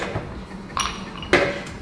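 Three ice cubes dropping into a cocktail glass for a gin old fashioned, each landing as a bright clink, spaced apart and fairly close.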